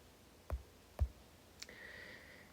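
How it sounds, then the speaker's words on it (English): Two sharp clicks and a softer third tap on a computer keyboard as an inequality is typed in, then a faint steady tone. "Now I'm going to type in my second inequality."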